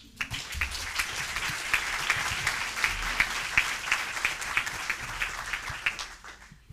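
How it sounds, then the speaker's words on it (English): At the World Inequality Conference, an audience applauds to welcome a speaker. Steady, crisp clapping from a sizeable crowd swells quickly, holds for several seconds and then thins toward the end, with no talking. "for that lovely introduction and the nice applause"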